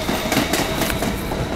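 A New York subway Q train rumbles past close by, a loud steady roar of wheels on rails with rhythmic clickety-clack beats throughout.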